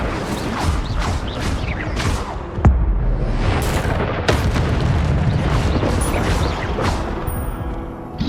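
The Incendio fire spell is cast in the video game Hogwarts Legacy, a loud whooshing burst with booming impacts and crackling bursts under dense game effects, one sharp hit standing out partway through.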